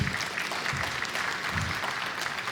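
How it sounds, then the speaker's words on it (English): An audience at a talk on public bus transport and net-zero gives the speaker a round of applause, an even, moderately quiet patter of clapping that holds steady from start to finish. "I think we could give him a round of applause, couldn't we?"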